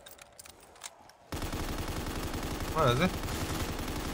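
Rapid machine gun fire rattles in a Call of Duty Zombies mod, starting abruptly after a quiet moment and continuing loud and dense, while someone speaks briefly over it.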